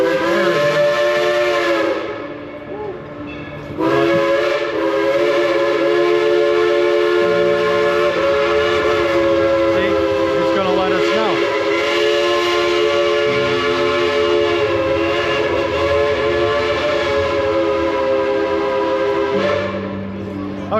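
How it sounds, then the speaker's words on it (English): A Dollywood theme park train rumbles past nearby with a sustained, layered tonal whistle or horn over steady mechanical noise, lasting the whole stretch with brief dips in intensity. "And there's the train coming by."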